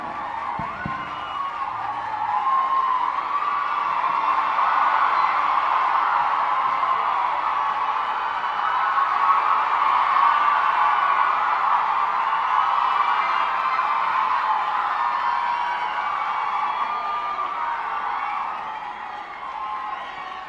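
A large audience at a memorial day ceremony gives a sustained round of applause for the Governor of Tamil Nadu, a dense, steady wash of clapping from a distant crowd.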